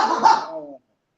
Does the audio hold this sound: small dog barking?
yes